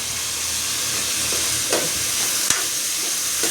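Steady sizzling of hot oil fills the clip, with a couple of brief sharper crackles partway through; no voices.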